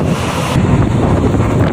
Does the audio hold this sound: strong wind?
yes